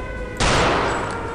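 Gunfire from an enemy in Return to Castle Wolfenstein, heard as a sudden loud burst of shots that starts abruptly after a quieter moment and keeps going in a dense, ringing roar.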